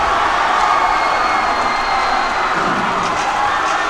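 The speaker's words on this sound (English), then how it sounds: "And listen to the Green Canyon crowd." High school basketball crowd for Green Canyon cheering in a gym during a game, a steady, loud wash of voices and shouting that stays level throughout.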